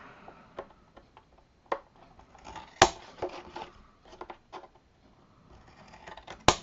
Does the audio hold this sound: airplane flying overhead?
no